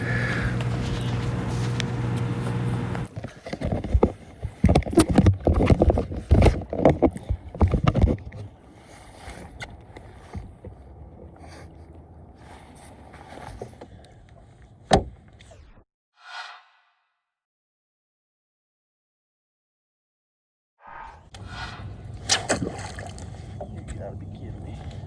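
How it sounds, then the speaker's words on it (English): Boat moving under an outboard motor with the trolling motor still lowered, loud engine and rushing water near, dropping to quiet midway before the motor noise returns; a voice talks at times. "I hopped in my boat and started going with the outboard with my trolling motor still down"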